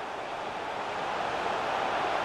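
A stadium crowd roars steadily in FIFA 23 during a Tottenham vs Manchester United Premier League match, a dense, even wash of massed voices that keeps the same level throughout without any distinct single shout.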